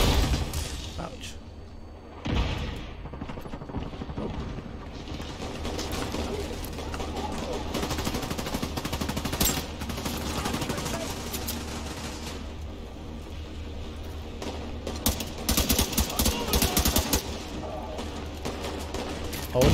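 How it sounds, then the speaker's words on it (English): Machine gun fire in the video game The Division 2, with rapid bursts and heavy thuds and booms rolling through a busy firefight, and a player talking over the action. "Oh, they have a machine gun there."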